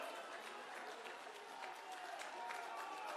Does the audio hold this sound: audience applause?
yes